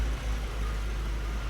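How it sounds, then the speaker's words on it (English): A 1993 Land Rover Defender 110 idles close by at the front near the engine, a smooth, even low rumble that holds steady and alone. "Just really nice running engine."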